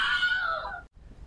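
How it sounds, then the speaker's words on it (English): An iPhone running the Freefall jailbreak tweak on iOS 8.4 lets out a loud, shrill synthetic scream as it is dropped, a single sustained wail that cuts off abruptly and is followed by a soft thud. "I just dropped my phone and the phone screamed"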